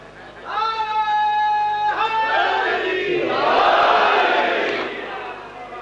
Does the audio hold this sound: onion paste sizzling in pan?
no